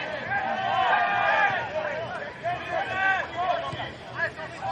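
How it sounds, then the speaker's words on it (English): A small crowd of spectators chatters at a men's NPL New South Wales football match between Mt Druitt Town Rangers and Rockdale Ilinden, a steady mid-level babble of overlapping voices throughout. "Little crowd here"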